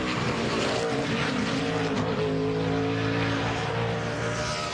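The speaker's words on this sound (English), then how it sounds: "hear him in and out of the throttle a lot as he tried to go around turn 5 and exit" A NASCAR Cup race car engine roars continuously at Watkins Glen, loud and close, its pitch rising and falling as the throttle is pressed and eased through a turn.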